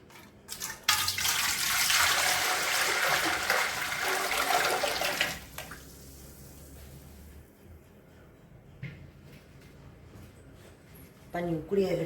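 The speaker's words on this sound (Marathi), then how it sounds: "नंतर पाणी टाकूया." Water poured into a greased cooking pot for jowar papad dough gives a loud rushing gush for a few seconds, then quieter trickling with light clinks of the vessel.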